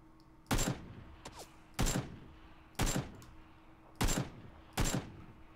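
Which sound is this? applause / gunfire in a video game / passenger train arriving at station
gunfire in a video game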